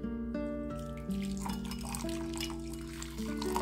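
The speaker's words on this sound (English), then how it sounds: "I have my hot water right here that is already boiled, so I'm just going to pour a little bit to this" Boiled hot water pours steadily into a glass jar holding coffee, a continuous close liquid rush with a ringing tone that rises as the jar fills.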